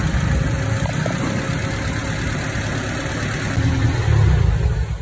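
Nissan Tsuru car engine running steadily nearby, a continuous low rumble with a brief louder surge near the end, no talking.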